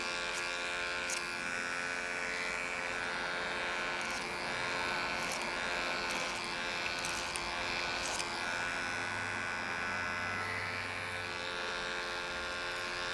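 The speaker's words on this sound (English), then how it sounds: "I'm doing a bit more backhand clipper over comb" Electric hair clippers run clipper-over-comb through hair during a low taper cut, making a steady close buzzing hum that holds throughout, with a few faint clicks and tonal shifts as the blade passes over the comb.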